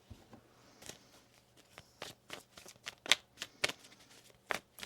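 Tarot cards are shuffled by hand in quick, crisp riffles and flicks, close and fairly quiet, with no talking.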